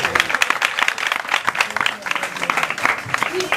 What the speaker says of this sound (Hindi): तालियां बजाएंगी इसके लिए।